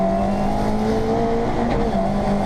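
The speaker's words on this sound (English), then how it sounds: "even though it's very, very noisy inside the car." Loud, steady engine drone fills the cabin of a rally car while driving, with sustained tonal whine and mechanical rumble throughout before cutting off abruptly at the end, no talk.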